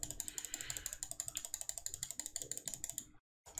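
Rapid, steady clicking from a computer mouse during a game reroll on an emulator, crisp repeated ticks close up with no talk, breaking off into a brief silence near the end.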